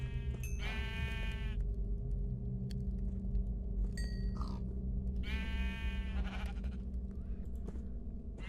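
Sheep bleat several times inside a survival video game, loud bursts that rise over steady background game music and ambience.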